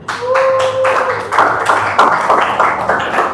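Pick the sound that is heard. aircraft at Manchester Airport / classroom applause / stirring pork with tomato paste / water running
classroom applause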